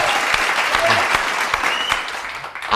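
A studio audience at an Ethiopian comedy TV awards segment applauds the best writer of the year, with loud, dense clapping continuing throughout.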